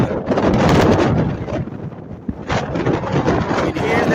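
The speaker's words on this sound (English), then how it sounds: "It's a very strong wind gust here." Strong wind gusts over 50 km/h at Lafontaine Beach, Canada, buffeting the microphone in loud roaring surges that drop briefly and build again.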